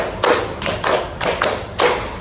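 In an ice-breaker during a group counselling session, a group claps in sharp, uneven beats. About five bright claps land over two seconds, close and crisp, with no talk.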